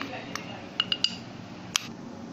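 Spoon stirring cocoa powder into condensed milk in a bowl, giving a few light clinks and taps of metal against the dish over a quiet background, with no talk.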